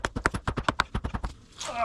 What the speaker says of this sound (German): Also mit dem Hammer habe ich wohl mehr Erfolg.